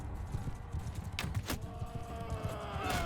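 Horses in the Bannerlord video game, a steady clatter of hooves thudding in quick rhythm at moderate distance, with a few sharp clashes and battle noise layered on top.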